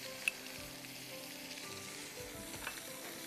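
Onion and chopped garlic sauté in a pan with a faint, steady sizzle and a couple of light utensil clicks, quiet and close with no speech.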